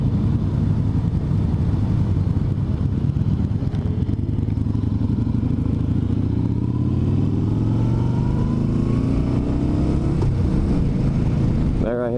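A Yamaha Star Bolt motorcycle engine drones loudly throughout a ride, its pitch climbing steadily as it accelerates, with wind noise and a shift near the end, recorded close from the rider's position.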